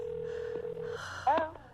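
A telephone being dialed: a steady tone runs for about a second, then a short burst of brighter dialing beeps, fairly close and with no talk.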